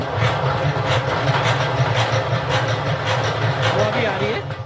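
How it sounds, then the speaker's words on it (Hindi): A honey extractor for Apis cerana indica frames spinning after uncapping, a loud steady mechanical rumble with rhythmic rattling throughout, with someone speaking over it. "ये हनी एक्सट्रैक्टर है एपिस सिराना इंडिका के।"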